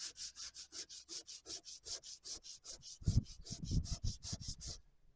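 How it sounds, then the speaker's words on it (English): Hardened body filler on a Mazda being sanded smooth by hand, heard as a steady run of quick, even rubbing strokes, close and fairly loud, turning heavier and coarser near the end before stopping. No one speaks. "So now it comes, sand it down nice and smooth, and then paint over it."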